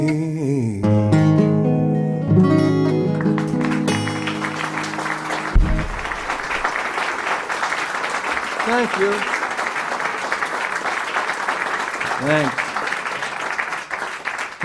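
A coffeehouse concert audience claps steadily after a song ends. Sustained applause fills the room from the middle of the clip onward, while the singer briefly thanks the crowd over it.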